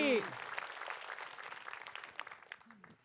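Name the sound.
studio audience clapping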